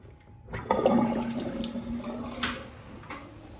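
Water gushing down the drain of a full household sink, tested with the boiler running: a sudden loud rush that settles into a steady gurgling drain with a few splashy surges, close and without talk.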